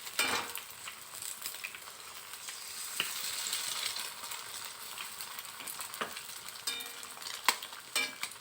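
Egg and onion sizzle in a frying pan, a steady faint crackling hiss with occasional sharp clicks and scrapes of stirring, close and without talk.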